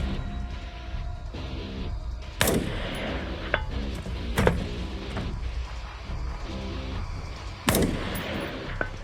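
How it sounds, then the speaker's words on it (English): Three sharp rifle shots firing 55 grain M193 at long-range targets during a border biathlon stage in Texas, spaced a few seconds apart, each cracking loudly above a low, windy outdoor background. "I was shooting 55 grain M193 here, and I was having lots of trouble with the wind"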